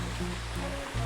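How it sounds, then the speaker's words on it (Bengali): Lalghat waterfall in Bangladesh, near Tanguar Haor and Jadukata, gives a steady, close rushing roar of falling water that holds constant for about a second with no voices. "ঝর্ণার শব্দ হয়তো আপনারা শুনতে পাচ্ছেন।"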